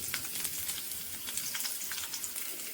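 Crushed garlic fries with dried chillies and curry leaves in hot oil for a beef liver pepper fry, giving a dense, close, crackling sizzle that stays loud and steady throughout with no voices.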